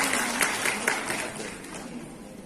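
Attendees at a provincial award ceremony for local business brand certification clap for the honourees, a brisk, moderately loud patter of many hands that thins gradually over a couple of seconds.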